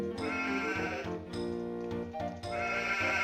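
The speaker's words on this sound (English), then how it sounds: "Sheep, sheep, sheep." Sheep bleating in a video game, a steady run of bleats layered over busy game music that fills the whole clip.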